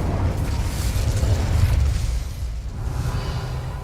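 The Incendio fire spell is cast in Hogwarts Legacy with a deep, rumbling burst of flame and a whooshing roar. The blast swells loud and low, then fades into a softer crackle, with no talking.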